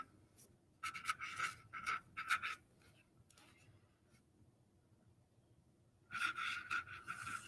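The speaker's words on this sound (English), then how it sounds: "So then you can write something on the inside like, thank you" Pen or marker scratching out a message inside a stamped card at a kids' art class, two bursts of quick, close scratchy strokes separated by a quiet pause.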